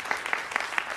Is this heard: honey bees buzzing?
no